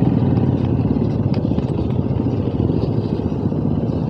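A motorcycle engine rumbles and clatters as it rides over a rough, bumpy road, loud and close, with jolting rattles throughout.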